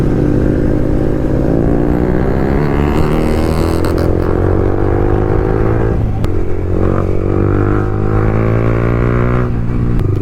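A motorcycle on a ride revs hard as the rider tries a wheelie, its engine rising and falling in loud, close pitch sweeps with wind noise over it.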